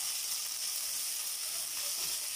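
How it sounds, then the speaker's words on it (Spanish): Diced onion and chili fry in a hot pan, giving a steady, dense sizzle and hiss that holds at an even level throughout, with no talking over it. "Acá ya estoy friendo la cebollita con el chile"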